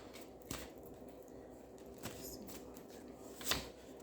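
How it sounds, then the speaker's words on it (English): A deck of cards being shuffled, with quiet riffling and a few soft snaps at intervals, close but faint. "Let's shuffle."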